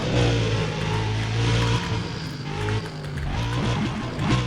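Engine drone and passing traffic from the racing video game Need for Speed: Undercover, a loud continuous revving car engine with shifting pitch and whooshes of other vehicles, with no talking.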